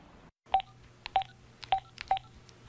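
Landline telephone dialing tones: four short, clear DTMF beeps in a steady rhythm, close and fairly quiet, with faint line hum underneath.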